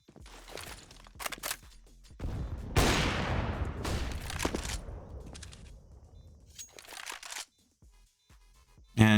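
Counter-Strike match audio with bursts of gunfire and a loud grenade blast in a round on the Ancient map, sharp cracks and a longer explosive roar followed by scattered shots, close and loud, with brief quiet gaps.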